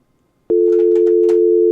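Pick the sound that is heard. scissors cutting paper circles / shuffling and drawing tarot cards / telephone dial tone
telephone dial tone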